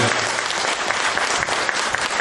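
Dense, steady applause from an audience at a children's karate and tamashiwari breaking demonstration, continuous and close throughout.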